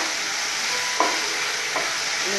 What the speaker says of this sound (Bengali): এখন এগুলি সবগুলো মিশে একসাথ করে ভেজে নেব